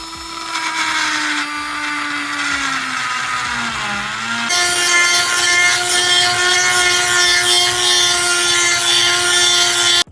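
A Dremel rotary tool cuts out plastic inside a supercharged 2003 Mustang GT, a loud, close, steady high-pitched whine that sags under load, then jumps to a higher, harsher pitch and holds to the end.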